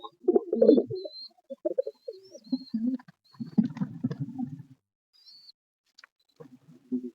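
Pigeons coo in a series of soft, low, rolling calls, loudest near the start and again in the middle, with short gaps and a brief return at the end; no one speaks.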